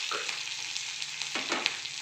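Tempering of green chili, curry leaves and ginger stirred in a hot pan for dahi poha, a steady close sizzle with a few scraping spoon strokes, no talking.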